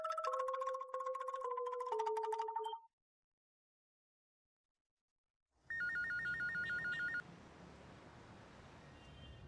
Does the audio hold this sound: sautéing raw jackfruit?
no